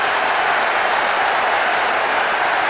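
Steady, broad roar of a large stadium crowd reacting to a goal in the football video game PES 6, Real Madrid versus Barcelona, loud and continuous with no separate voices standing out.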